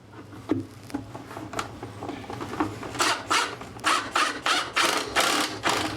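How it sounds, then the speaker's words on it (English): Screws are driven to anchor a medicine cabinet to a stud, giving a close series of rhythmic ratcheting clicks and whirring bursts that grow louder and more regular toward the end. "Then we're gonna anchor it with the included screws."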